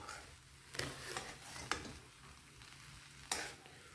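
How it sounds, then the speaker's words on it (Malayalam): Papaya thoran is stirred in a pan over a soft, faint sizzle. A handful of sharp spatula scrapes and clicks stand out against the quiet, even frying. "ഒന്നുകൂടെ ഒന്ന് ഇളക്കി കൊടുക്കാം"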